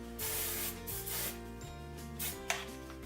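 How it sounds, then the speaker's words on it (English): Several short bursts of hairspray hiss in succession, close to the mic, with brief rubbing sounds in between. "take some hairspray, fingers. Rub that down like so. And then just spray it."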